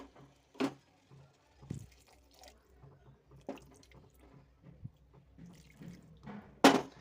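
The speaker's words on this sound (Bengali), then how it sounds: "এতে তারপর একটুখানি জল দেবো।" A little water is poured into a cooking pan holding grated ginger for doi chicken, making a few short, separate splashes and drips close by with quiet gaps between them.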